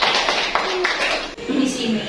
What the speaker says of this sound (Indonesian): beri tepuk tangan kepada grup